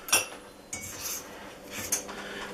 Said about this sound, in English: And now we're going to mix.